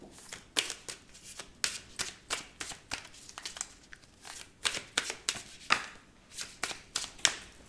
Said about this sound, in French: Plusieurs cartes sont tombées.